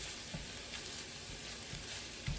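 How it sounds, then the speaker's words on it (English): Tiny chopped sausage pieces sizzle in a pan over medium-high heat, a soft, continuous crackle and hiss with small pops, fairly quiet and heard alone. "a nice sizzle going on"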